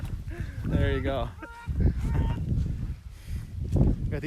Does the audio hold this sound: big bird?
yes